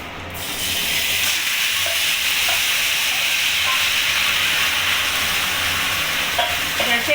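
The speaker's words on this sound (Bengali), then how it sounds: "এবার আমি ম্যাগিনেট করা মাংসগুলোকে এর মধ্যে দিয়ে দেবো" Marinated chicken tipped into a hot spiced pan bursts into loud, steady sizzling and hissing that starts abruptly and holds strong throughout, with a few faint clinks.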